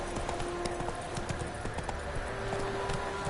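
Hooves of the horse Roach galloping in the fantasy game The Witcher: Wild Hunt, a rapid, steady clip-clop close by with a light rattle of tack and no talk.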